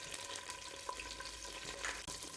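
Cashews and raisins fry in a mix of oil and ghee, giving a steady, close hiss and crackle with faint stirring clicks, no voices.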